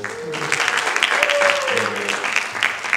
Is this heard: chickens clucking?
no